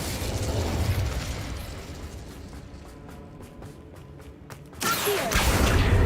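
An Incendio fire spell is cast in a Harry Potter video game: a loud rushing roar, a quieter stretch of crackling mechanical ticks, then a sudden bright burst that keeps blazing.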